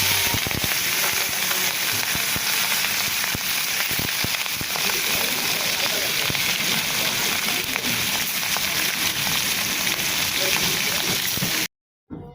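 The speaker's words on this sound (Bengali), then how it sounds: "মাছগুলো এই গরম তেলে দিয়ে ভেজে নেব।" Pieces of marinated hilsa fish frying in hot oil, a loud continuous crackling sizzle with dense spitting pops that runs steadily until an abrupt cutoff near the end.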